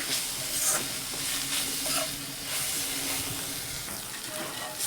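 Roasted eggplant mash (baingan bharta) being stirred in an oiled pan, with a close, steady sizzle and intermittent scraping strokes of the spoon throughout.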